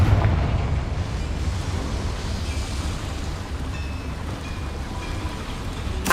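A Confringo blasting spell erupts in Hogwarts Legacy, with a loud, sustained crackling roar of fiery debris that stays at full strength throughout, with no speech over it.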